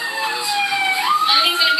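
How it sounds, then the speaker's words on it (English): An ambulance siren blares loud and close, its wailing tone sweeping down and then back up over a short burst. "Moments later, she's in the ambulance,"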